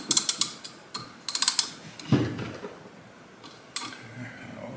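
A ratchet clicks in short bursts while loosening half-inch bolts on a turbo oil drain, close and sharp, with brief pauses between runs and a louder clank partway through.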